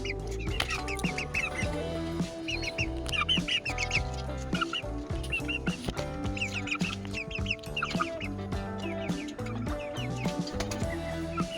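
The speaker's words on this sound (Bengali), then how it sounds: "এই হচ্ছে আমাদের মুরগি।" Domestic chickens cluck close by in a backyard bird setup, with repeated short clucks over a busy background of other bird calls and noise.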